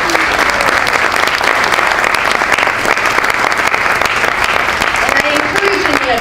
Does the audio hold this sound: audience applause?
yes